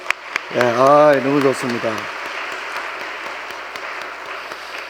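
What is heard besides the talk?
applause for the middle school group in church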